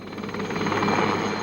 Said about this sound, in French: L'hélicoptère, c'est vrai, ça fait beaucoup de bruit mais on passe qu'une fois.